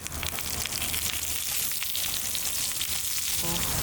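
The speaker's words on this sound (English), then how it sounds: "Now I'm gonna put the onions on there. Caramelizing some onions." Onions caramelizing in a pan beside bacon for gourmet burgers while car camping, a dense continuous sizzle and crackle, loud and close, with no voices.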